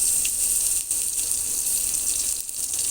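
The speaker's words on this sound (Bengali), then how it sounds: "দিয়ে দিলাম পরিমাণ মতন পানি।" Water pours into a cooking pot of frying fish with ginger and garlic in a loud, steady gushing stream, with brief dips in the flow, close up and without speech.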